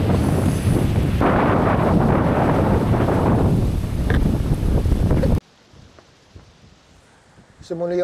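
Strong wind on a secluded semi-raw beach in San Juan, Batangas roars loudly into the microphone with gusty surges for about five seconds, then cuts to a much quieter scene with faint sounds.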